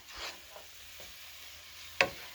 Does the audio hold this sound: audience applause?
no